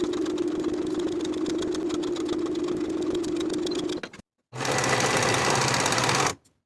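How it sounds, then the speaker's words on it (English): Sewing machine stitching a band onto a sleeve seam, a steady close whirring hum for about four seconds, a short pause, then another quick run of stitching. "Sew the band to the sleeve with a 1/2 inch seam allowance"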